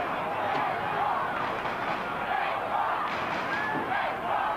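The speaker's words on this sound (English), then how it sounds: "The umpire's copping a blast from the crowd" A 1987 Australian football crowd at a Fitzroy Lions versus Brisbane Bears match jeers the umpire, a sustained, swelling roar of voices from the stands, fairly loud and continuous.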